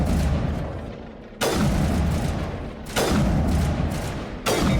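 Slow-moving rockets fired in the video game Mass Effect land as three heavy, booming blasts a second or so apart, each one followed by a rumbling roar that fades.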